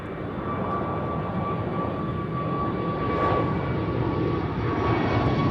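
An Embraer E195-E2 jet airliner at Amsterdam Schiphol Airport gives a steady, fairly loud engine roar with a thin tonal whine that holds evenly throughout, heard from the spotting area with no voices.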